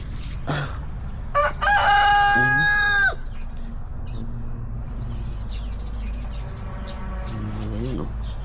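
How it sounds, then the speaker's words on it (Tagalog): A rooster crows loudly nearby over a steady background hum, with a few short clucks and squawks from chickens before and after. "dito yung mga manok natin"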